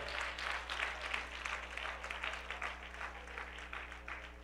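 A church congregation claps in worship, a dense, steady patter of many hands heard at a moderate distance over a low constant hum.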